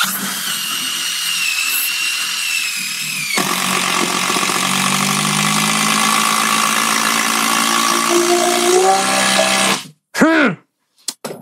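Bosch GDR 18V 210C cordless impact driver at full speed driving a screw, a loud sustained whine and rapid hammering buzz for about ten seconds, rising in pitch before cutting off, followed by brief spurts.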